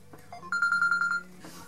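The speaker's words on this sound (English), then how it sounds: "Alright, sorry, phone call." A telephone rings indoors in one electronic burst of rapid repeated trills, clear and moderately loud over a quiet room, then stops.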